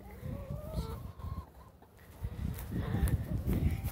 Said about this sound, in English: Oh no, being chased by a chicken.